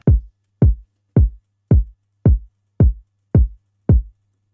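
An FL Studio afrobeat kick drum plays a steady four-step pattern: eight evenly spaced, punchy, booming hits, each with a short low tail, alone and dry.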